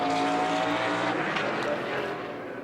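A NASCAR Sprint Cup stock car on a qualifying lap at Indianapolis roars loud and steady, its engine note fading slightly as it passes, with no voices over it.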